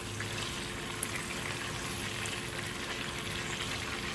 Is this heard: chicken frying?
yes